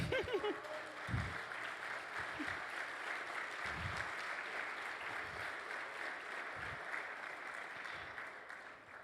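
A church congregation applauds at a Sunday service, steady sustained clapping from a crowd filling the room, with a few low voices and thumps near the start.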